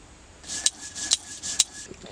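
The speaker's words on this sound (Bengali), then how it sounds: "এবার আমি পোস্তটা বেটে নিচ্ছি" Poppy seeds being ground into paste for Bengali egg curry, with rhythmic rubbing strokes of stone against stone repeating about twice a second, close and fairly quiet, with sharp scraping clicks at each stroke.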